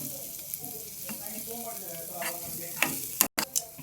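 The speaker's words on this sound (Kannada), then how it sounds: "ಹಿಂಗೆ ಒಗ್ಗರಣೆ ಈಗ ರೆಡಿ ಆಗ್ತೈತೆ" Kannada home-style tempering with asafoetida sizzling in hot oil in a pan for majjige saaru, a steady close sizzle with light stirring clicks and a brief louder burst near the end.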